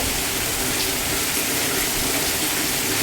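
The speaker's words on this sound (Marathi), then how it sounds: "बघा किती मोठा आहे पाऊस वारं सुद्धा आहे" Dense, steady hiss of heavy rain pours without pause, a broad roaring wash that may carry gusts of wind within it.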